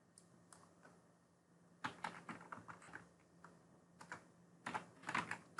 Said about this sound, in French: on va le taper.